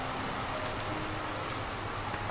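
Steady rain falls in cold weather, a dense, even hiss with no pauses and no voices throughout.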